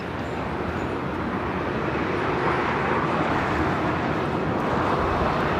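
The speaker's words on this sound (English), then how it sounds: "This flight coming in from Salt Lake City, Delta Airlines 898. It's a 7-year-old A321." A seven-year-old Delta Airlines Airbus A321 arriving at LAX from Salt Lake City roars with a loud, continuous broadband jet rush that swells slightly over several seconds, with no talk.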